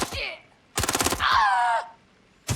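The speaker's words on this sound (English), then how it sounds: "I hear shots" A rapid burst of gunfire in Watch Dogs: Legion, several shots in quick succession, followed by a whooshing, ringing effect and another sharp shot at the end.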